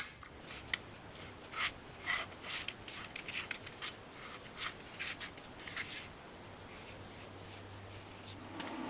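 A marker or scribe scrapes across a steel car hood, tracing flame shapes for a rust repair in a series of short, close rubbing strokes of uneven rhythm over a faint steady background hum.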